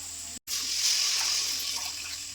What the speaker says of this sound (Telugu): ఐదు గ్లాసులు నీళ్ళు పోసుకోవాలి